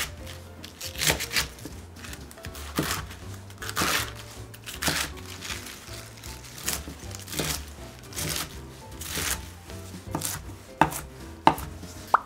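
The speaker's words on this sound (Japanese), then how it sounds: "キャベツをよく洗ったら、だいたい2センチ幅くらいのざく切りにしていきます。" A long, sharp kitchen knife chops washed cabbage into strips about 2 cm wide, with steady close knocks on a cutting board at an uneven rhythm and no talk.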